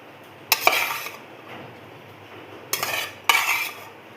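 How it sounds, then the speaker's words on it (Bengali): Cooked rice is tipped into a biryani pot layered with potatoes and eggs, giving two bursts of metal clatter and scraping from a spoon against the pot, each followed by softer rustling, close and alone. "এবার দিয়ে দিচ্ছি বাকি ভাতটা"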